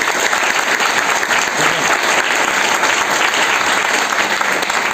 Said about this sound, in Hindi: तो एक बार जोरदार ताली हो जाएगी।